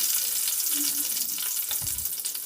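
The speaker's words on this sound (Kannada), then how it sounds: "ಇಷ್ಟನ್ನು ಹಾಕೊಂಡು ಚೆನ್ನಾಗಿ ಸ್ವಲ್ಪ ಹುರ್ಕೊಳ್ಳೋಣ" Urad dal, cumin and curry leaves frying in oil in a pan, with a steady close hiss of sizzling and a brief stir or clatter partway through.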